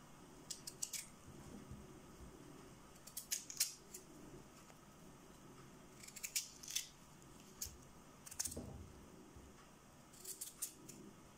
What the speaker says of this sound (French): Je vais finir de couper mes patates en morceaux pour qu'elles cuisent plus vite.